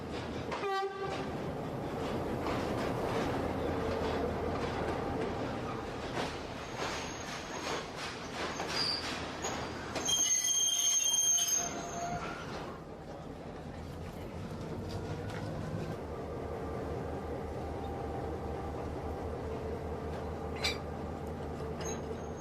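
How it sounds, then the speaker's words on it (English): A train locomotive rumbles and clanks slowly at close range while being shunted at Kandy station, Sri Lanka, with a loud horn blast midway and steady engine drone throughout. "The locomotive of the train that has just now arrived from Colombo has to be shunted."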